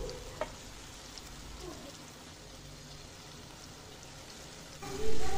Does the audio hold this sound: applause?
no